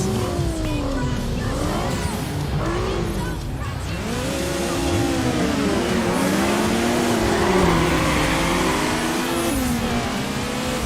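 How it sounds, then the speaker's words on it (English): A tuned street-racing car in Need for Speed Underground with performance upgrades revs hard and repeatedly, its engine note climbing and dropping through gear shifts, loud and close with tire noise beneath, mixed with other racing cars. "Wait, why are my revs so much earlier on this one?"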